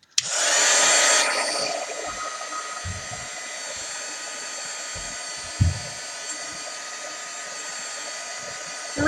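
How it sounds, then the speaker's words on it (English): A handheld heat tool blowing to dry paint on a canvas craft project, a steady loud whooshing drone that starts abruptly and runs throughout, with a few faint knocks underneath. "I'm just going to zap these dry for a second."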